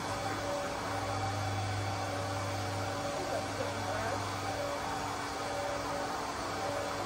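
Constant whooshing drone of a dog grooming kit vacuum sucking up dog hair, steady and close, with a faint voice under it.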